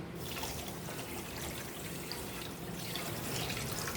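Water pours into a cooking pan with sugar to make syrup, a steady close splashing trickle that runs without a break for a few seconds.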